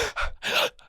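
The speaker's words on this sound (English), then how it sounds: "did you hear the gasp?" A sharp, breathy gasp drawn in up close, broken into a few quick intakes with a faint trailing breath at the end.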